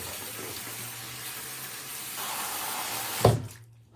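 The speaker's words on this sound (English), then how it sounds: "Wash my hands real fast." Tap water runs steadily into a sink during a quick hand wash, a close, even hiss with a brief louder splash near the end before it cuts off.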